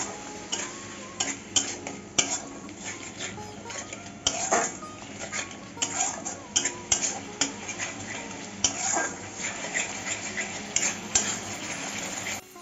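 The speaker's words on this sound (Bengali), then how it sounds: "ভালো করে কষিয়ে নেব মশলাটা" Spice masala with salt, a little sugar and water being sautéed and stirred in a pan for jackfruit kofta curry, a soft sizzle under repeated close tapping and scraping spoon strokes.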